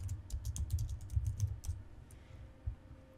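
Rapid, uneven bursts of keystrokes on a computer keyboard, fairly close and clear, trailing off into a quieter pause with one last isolated tap near the end.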